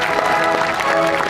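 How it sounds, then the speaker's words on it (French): Audience clapping at a horse festival in Ugine, a loud, close, continuous crowd applause with some murmur of voices mixed in. "Vos applaudissements."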